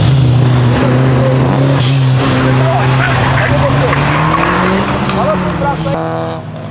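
A BMW and a VW Polo TSI race hard on a track, with a loud, sustained engine roar and continuous tire squeal close by, while people talk over it.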